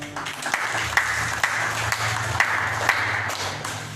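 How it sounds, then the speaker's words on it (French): A church congregation claps during a French-language worship service, with rhythmic, moderately loud group clapping marked by regular sharp accents over a background of sustained tones. "Laisse-nous applaudir le Seigneur"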